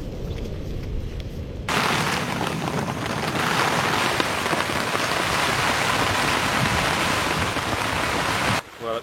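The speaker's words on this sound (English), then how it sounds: "it's really starting to hammer down now. The wind and the rain." Heavy rain hammers down in gusting wind beside a tent by a small side creek, a dense, loud roar that bursts in suddenly and holds steady before cutting off near the end.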